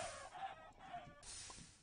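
Chickens clucking in Minecraft, a few faint, brief clucks in quick succession, quiet and alone.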